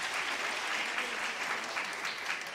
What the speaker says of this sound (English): Please give a round of applause once again to Mr.